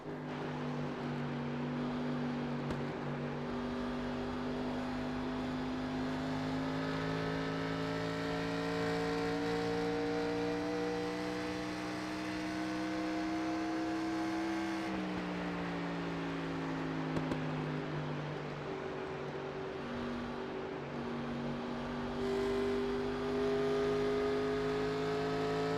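Race car circling Homestead Miami Speedway, its engine droning in a sustained steady tone that rises and falls with shifts and throttle changes over nearly half a minute, heard from onboard without talk.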